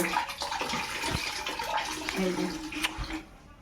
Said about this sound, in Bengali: ধুচ্ছি আমি চাউমিনটা ধুয়ে নিচ্ছি